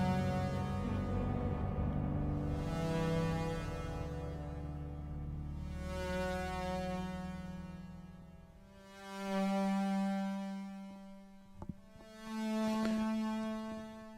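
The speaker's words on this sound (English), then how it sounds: "you're hearing the ARP just with a very slow arpeggio" An ARP 2600 synthesizer plays a very slow arpeggio, long sustained tones stepping between pitches with gentle swells in loudness, quiet and alone with no voices.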